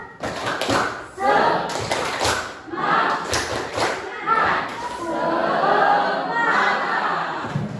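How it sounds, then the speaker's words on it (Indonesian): A classroom of children does a rhythmic spirit clap, bursts of group clapping alternating with chanted shouts, loud and close, with kids' voices throughout. "Ibu minta tepuk semangatnya."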